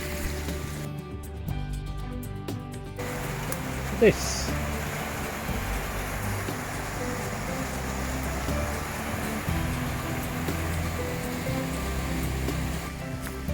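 Water rushes steadily and loudly through a canal lock on the Coventry Canal at Atherstone in a constant churning roar, with a brief sharp knock partway through and a short muffled stretch near the start.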